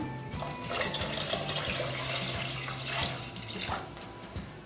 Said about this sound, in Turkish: Şöyle elimi temizledikten sonra Suyumu dökeceğim üzerine hemen.